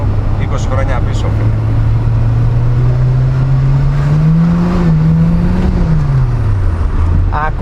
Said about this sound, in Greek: Ακούτε αυτό το σκάσιμο, είναι νομίζω, ξαναλέω, μοναδικό σε καινούργια αυτοκίνητα.